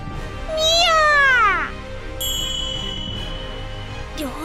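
A human voice imitates a cat with one drawn-out, fairly loud meow that rises and then falls, followed by a faint high ringing tone.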